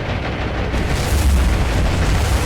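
A dive bomber's bomb explodes in the World War II naval game War on the Sea during the Guadalcanal assault, producing a heavy, sustained boom with deep low rumble that fills the whole moment without any talk.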